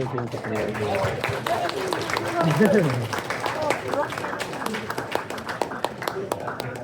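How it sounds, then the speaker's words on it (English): Hackathon attendees applaud themselves after a 24-hour event, scattered clapping and cheering mixed with excited voices and chatter throughout. "Get a massive round of applause for yourselves."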